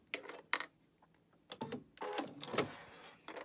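A home sewing machine stitches fabric pieces for a Halloween kitty-head project, running off the end of a seam in short close bursts of rapid mechanical whirring separated by brief pauses.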